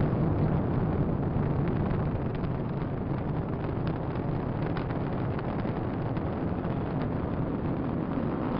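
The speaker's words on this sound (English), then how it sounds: "Liftoff of the SpaceX Falcon 9 rocket, launching Dragon to the International Space Station" A SpaceX Falcon 9 rocket carrying a Dragon cargo capsule lifts off with a dense, continuous roar, a loud rumbling wall of noise that holds steady for the whole stretch.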